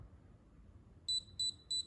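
Three short, evenly spaced high-pitched electronic beeps from a JCONLY Epoch R4 wireless tattoo machine powering down, clear and close after a quiet stretch of low room hum.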